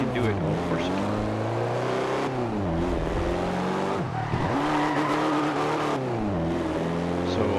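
An armored jeep in Forza Horizon 2 revs its engine and sweeps through a handbrake turn, tires squealing and skidding with rising and falling engine pitch, while a player talks over the game sound.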